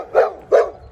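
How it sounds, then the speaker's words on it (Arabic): Two separate barks from a dog, about a third of a second apart, fairly close and loud, with no talk over them. "ناري على الكلب انا سي ترو ما يخلينيش ندوز"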